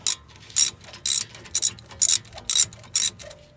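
A ratchet loosens brake caliper bolts on a 2007 BMW 328xi E90, clicking in eight quick, even bursts close up with no speech.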